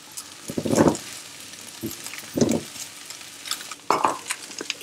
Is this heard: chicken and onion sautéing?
yes